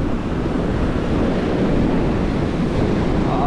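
Sea surf rushes steadily onto the shore at Bucana, a continuous loud wash of waves mixed with wind buffeting the microphone, with no voices.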